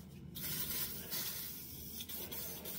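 WD-40 sprayed from an aerosol can onto an old Lister D engine part in a workshop, a steady close hiss lasting a few seconds with brief breaks.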